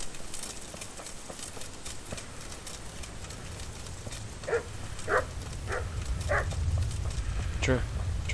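A dog barking in a video game, a handful of sharp barks spaced about half a second apart in the latter half, heard over low rumbling game ambience with someone talking.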